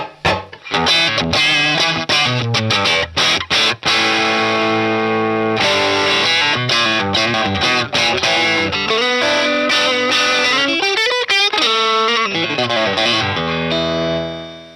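An electric guitar through a Marshall amp with both channels turned fully up roars with heavy distortion, loud sustained chords and ringing riffs broken by a few short stops, with no talking.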